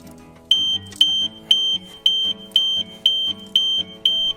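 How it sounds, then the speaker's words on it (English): The security warning buzzer of an Audi A3 beeps loudly and steadily, sounding about eight evenly spaced pulses of roughly half a second each, with no talk. "turn off the security warning buzzer by unlocking the car again"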